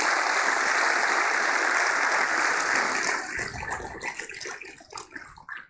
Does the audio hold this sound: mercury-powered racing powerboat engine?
no